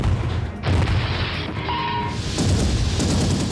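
A 4.5-inch naval gun aboard the Royal Navy destroyer HMS Coventry fires at attacking aircraft, sounding as loud, dense booming blasts over a constant roar, with a brief tonal whine partway through and no clear pause between the bursts.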